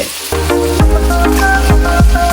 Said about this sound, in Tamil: மரக்கறிகளுக்கு கொஞ்சம் உப்பு போட்டு வதக்குவோம்